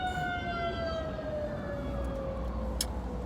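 A fire truck siren wails with a slowly falling tone as it passes, over road traffic noise during a snowstorm.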